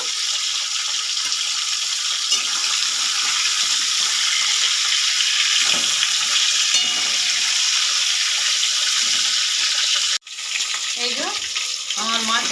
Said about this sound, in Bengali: মাছের মাথাগুলো ভালো করে ভেজে নিতে হবে